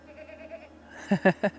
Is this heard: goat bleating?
yes